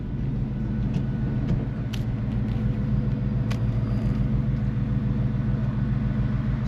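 A Coyote V8-swapped car with an MT82 six-speed manual cruises at low speed around a block, its engine giving a steady, deep, even rumble throughout with faint ticks over it.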